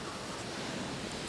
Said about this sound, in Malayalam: നല്ല തിരയടിക്കുന്ന സൗണ്ട്